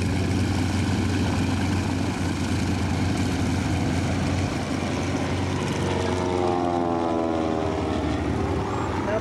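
An L-19 propeller airplane making a slow flypast at an airshow, a loud, steady engine and propeller drone that sweeps in pitch as it passes near and begins to recede.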